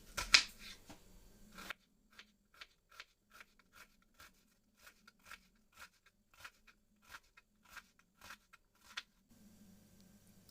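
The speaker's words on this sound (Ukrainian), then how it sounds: "Готуємо цибулю, нарізаємо півкільцями." A knife cuts an onion into half rings on a board, a steady series of about twenty crisp, quiet chops at a regular pace, close and clear against near silence.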